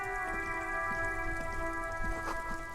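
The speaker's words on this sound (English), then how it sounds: "All around you, the rain falls on the great city of Revachol" Steady rain pours over the city of Revachol in the video game Disco Elysium, a continuous dense hiss with soft scattered drops and a low hum beneath, no voices.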